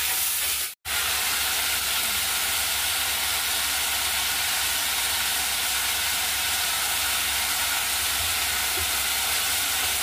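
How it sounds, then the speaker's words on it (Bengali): A pressure cooker of boiling water vents steam in a kitchen, a loud, continuous broadband hiss lasting about ten seconds after a momentary dropout near the start. "আমি পাশে প্রেসার কুকারে জল গরম করতে দিয়েছি।"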